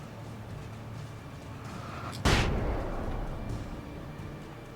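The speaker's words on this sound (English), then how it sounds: "I'm going to burn through a little shotgun ammo now because we have maxed out on it." A single loud shotgun blast from Alan Wake cracks out midway, sharp and close. Its rumble decays slowly over a murky, tense ambient background.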